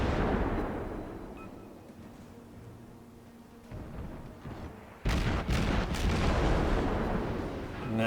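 Naval guns firing in the World of Warships game, a USS Wicks destroyer battle: a low rumbling boom near the middle, then a loud burst of crackling salvos and blasts continuing steadily to the end.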